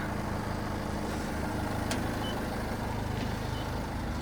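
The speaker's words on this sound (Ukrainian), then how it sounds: "Робить двигунчик рівно" A 2015 Renault Master 2.3 diesel van runs at a steady idle, a close, even low-pitched rumble that holds unchanged throughout with no one talking.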